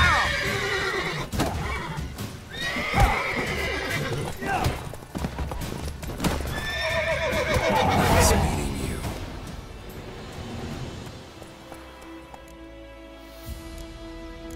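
Horse neighing several times in a brawl scene, loud shrill whinnies mixed with hoof clip-clops and scuffling, followed by a quieter stretch with a low sustained tone.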